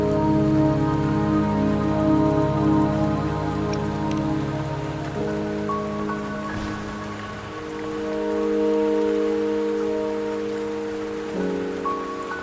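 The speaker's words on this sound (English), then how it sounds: "Don't worry, the rain won't last much longer." Rain falls steadily in a mountain area of the video game Wuthering Waves, a continuous soft patter layered under sustained musical tones, with no voices.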